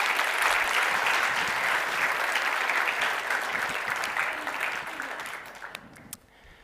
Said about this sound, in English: So I would like a big round of applause